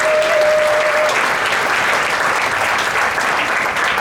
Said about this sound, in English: Yes, please, another round of applause.